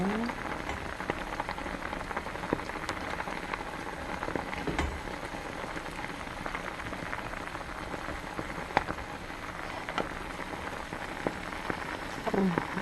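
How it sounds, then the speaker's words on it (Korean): Pot of soup with dried pollack, shiitake, chili, garlic, avocado, broccoli, green onion, chives, carrot and ground perilla seeds bubbling steadily at a low simmer, a soft continuous crackle with scattered pops close by. "지금 보글보글 끓이고 있습니다"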